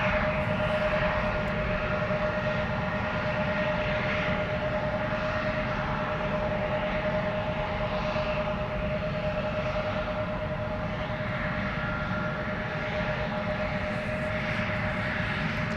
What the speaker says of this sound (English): first up Iceland Air Flight 501 to Reykjavik, by the looks of it. Max 9, 737.